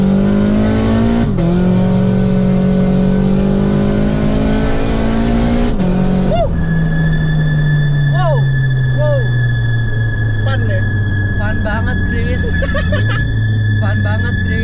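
Turbocharged engine of a Subaru BRZ with aftermarket Varis bodykit pulls hard through rising revs, with gear changes, a loud and steady drone in the cabin with people talking over it.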